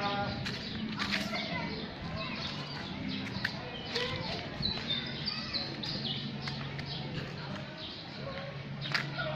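Small birds whistle and chirp in short bursts through a busy outdoor scene, partly masked by steady background noise and nearby voices talking.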